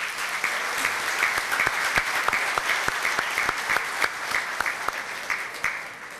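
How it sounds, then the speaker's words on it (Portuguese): An audience gives steady, enthusiastic applause for several seconds, with many close, crisp claps forming a dense patter that fades slightly toward the end. "A dona Mafalda Mussi Nafá, os nossos aplausos."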